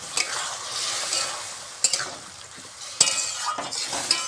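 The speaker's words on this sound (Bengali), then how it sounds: "এবার ভালো করে আমি কষিয়ে নেব।" Potatoes sizzle in a pan with chili powder, turmeric, salt and a splash of water as they are stirred and fried, with a steady close hiss broken by a few sharp scrapes and clinks of the spatula.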